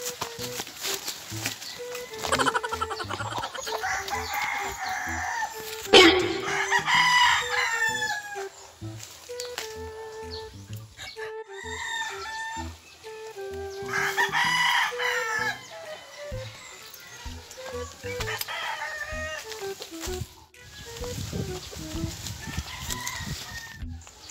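A rooster crows loudly several times at close range, with clucking and other fowl sounds between the calls and occasional voices nearby.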